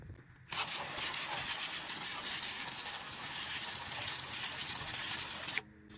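A single sustained hiss of wheel cleaner spray on a car wheel lasting several seconds, close and steady, starting and stopping abruptly against a quiet background.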